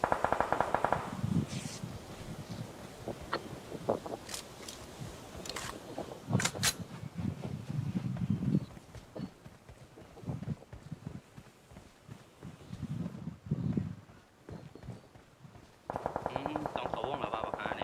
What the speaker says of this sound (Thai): เสียงปืนมัน